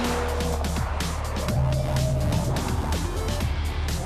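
A car driven flat out on a hot lap around a track, with a loud engine rising and falling through gear changes and faint tire squeal as it corners.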